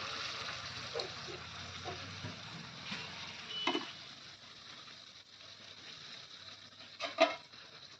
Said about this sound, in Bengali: দেখো জল কিন্তু ভালো করে ফুটে গেছে